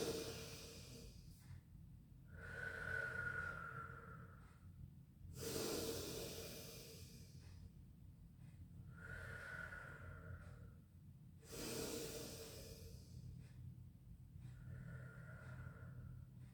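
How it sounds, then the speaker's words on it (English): Slow, deep breaths during a pilates class, each long airy inhale followed by a sighing exhale in a regular rhythm, roughly three full cycles, close and soft. "Take a breath in."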